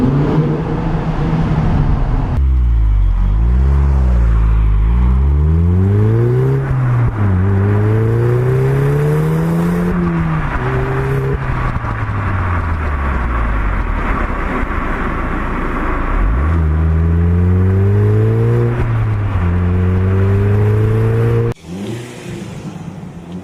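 A Porsche Cayman S with a 2-litre turbocharged engine revs repeatedly, its engine note sweeping up through the gears and dropping back in several loud, close pulls before cutting off abruptly near the end.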